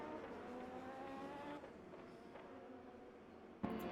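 An LMP2 prototype race car in the Le Mans Ultimate racing game at Circuit of the Americas, engine droning steadily as the car brakes and locks up into turn 16, then a sharp knock near the end.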